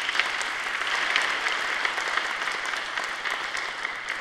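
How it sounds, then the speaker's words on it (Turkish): Audience applause at an award ceremony, a steady dense wash of clapping from a large crowd, moderately loud and sustained throughout without speech over it. "bir alkış rica ediyoruz."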